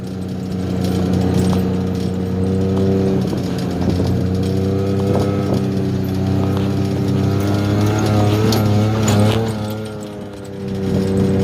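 A vehicle drives along a bumpy rural road, its steady engine hum heard close up with continuous rattling and clattering from the rough surface.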